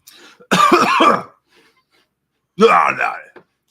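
A man coughs twice, harsh and close, each cough a rough, throaty burst with a groaning tail, separated by a short silence.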